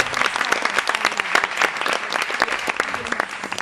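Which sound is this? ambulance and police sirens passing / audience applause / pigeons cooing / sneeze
audience applause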